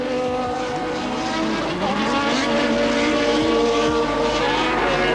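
A 1986 Minardi Formula racing car engine screams loud and close, a sustained high-revving drone with shifting pitch and no voices.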